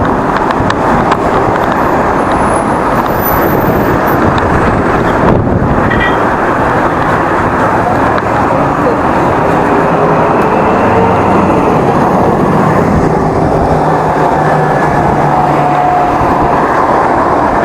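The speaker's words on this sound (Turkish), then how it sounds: "bu nasıl rüzgar ya? Bu nasıl bir rüzgar?" Strong wind roars steadily and buffets the microphone throughout, a dense rushing noise with no pauses.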